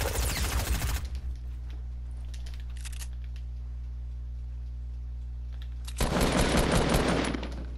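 Sniper rifle shots in an online shooter game, two loud bursts of gunfire, one at the start and one later, separated by a low steady hum and a few faint clicks.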